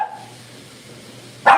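A single short dog bark bursts out loud and close at the very end, after a stretch of quiet room tone.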